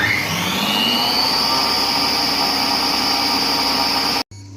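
Compact Cook Pro kitchen robot running its program 30 cleaning cycle, a loud steady motor whir with a high whine that holds constant before cutting off abruptly near the end.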